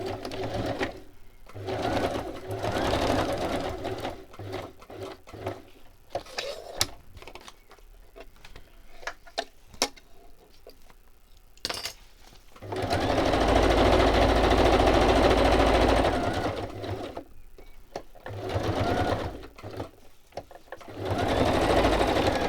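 A sewing machine stitches in several bursts of fast, rhythmic whirring and clatter, separated by pauses filled with clicks and handling noises, fairly close and alone without talk.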